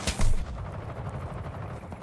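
Gunfire in the shooter game Call of Duty: Black Ops 6: a loud shot near the start, then a dense, rumbling stretch of continuous battle noise with faint further shots, no talking.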